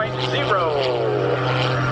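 The Oracle Challenger 3 aerobatic airplane at an air show roars overhead with a steady propeller drone that rises and falls in pitch, while an announcer talks over it.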